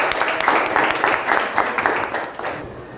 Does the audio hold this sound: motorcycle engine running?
no